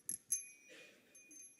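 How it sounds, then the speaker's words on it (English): A hand bell dinged at a conference to call people back from a coffee break: two quick bright rings close together, then a fainter ringing tail, heard alone and quiet. "we're going to ding a bell like this"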